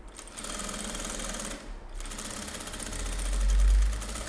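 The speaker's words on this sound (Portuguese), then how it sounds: "eu vou vir aqui, beiradinha com beiradinha, mesma borda, direito com direito e passa a costura" A sewing machine runs a fast, steady stitching rhythm while sewing a zipper seam, close and continuous with a brief pause midway, then carries on and grows slightly louder near the end.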